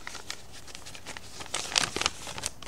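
Paper leaflet from a cough medicine package being handled, with soft crinkling and rustling, close and irregular, with a few sharper crackles in the middle.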